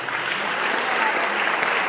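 A church congregation applauds a woman after her testimony, a brief, dense burst of clapping from many hands, close and fairly loud.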